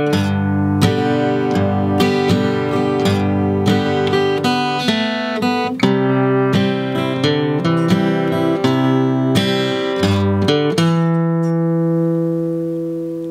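Acoustic guitar playing the first line of a song: a run of plucked single notes and strummed chords in a steady rhythm, close and clear, with the last chord left ringing out.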